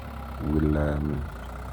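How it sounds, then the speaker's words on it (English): A four-wheel tractor pulling a five-furrow plough runs with a steady low engine drone that swells briefly in the middle, under someone speaking nearby. "We are using a 4-wheel tractor with 5 furrows"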